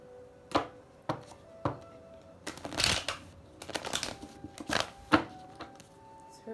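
Tarot cards shuffled again and again by hand, a series of crisp riffles and taps at irregular intervals, close and moderately loud, with faint background hum between them.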